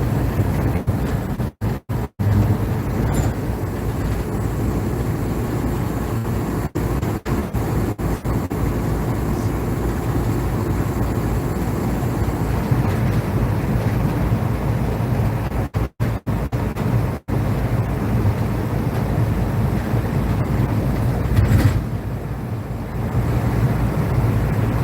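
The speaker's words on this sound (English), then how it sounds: "Yes, I am really driving across the country in an RV." An RV driving across the country, heard from inside as a steady road and engine rumble with wind noise, continuous for the whole stretch with a few brief dropouts.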